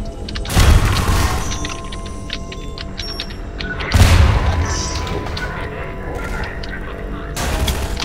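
A grenade explodes in the video game Half-Life 2, giving two heavy booming blasts a few seconds apart, the second one followed by a lingering rumble, with background game noise between them.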